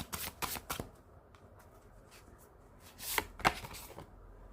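Cards being drawn and shuffled from a Bhagavad Gita card deck: a few quick papery riffles and flicks near the start, a quiet pause, then two more card slaps and shuffles, close and soft.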